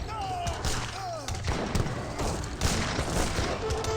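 Musketeer volleys crackle in a battle in Age of Empires 3, with dense bursts of gunfire and booming hits mixed with melee clatter and battle noise.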